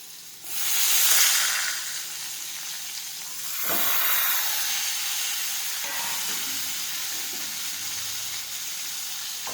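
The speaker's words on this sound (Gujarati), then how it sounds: "હવે થોડી વાર સાતળીશું." Chopped tomatoes, grated ginger and chopped chilies sauté in hot oil for dal. A steady close sizzle swells loudly as they hit the pan, with a second surge around four seconds, then holds a constant frying hiss with no talk.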